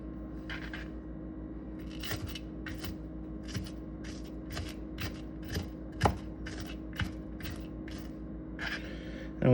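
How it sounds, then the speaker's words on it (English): A knife mincing an onion on a cutting board: a long series of steady, evenly spaced chops, close and fairly soft, over a constant low hum, with no talk. "We're just trying to mince it up so it sautés"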